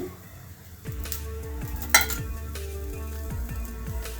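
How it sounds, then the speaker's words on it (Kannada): Ghee being spread with a ladle across a hot pan for a children's breakfast dish, giving a steady sizzle under repeated scraping strokes, with a brief sharp metallic clink partway through. "ಹೀಗೆ ಸ್ವಲ್ಪ ತುಪ್ಪ ಹಾಕೊಂಡ್ಬಿಟ್ಟು ನೀಟಾಗಿ ಸೌಟಿನ ಸಹಾಯದಿಂದ ಈ ಥರ ಸ್ಪ್ರೆಡ್ ಮಾಡ್ಕೊಳ್ಬೇಕು"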